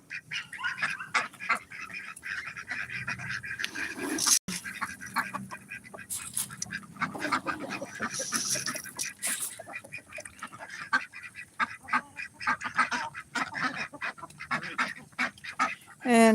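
Muscovy and Ancona ducks quack and honk in a busy overlapping chorus while feeding, mixed with goose-like calls and a faint voice now and then.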